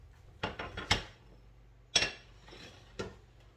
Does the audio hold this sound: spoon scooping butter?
yes